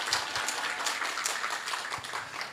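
A church congregation applauds to welcome a member at a Tuesday service, with a steady, dense wash of many hands clapping together, moderately loud and continuous throughout, with no talking over it.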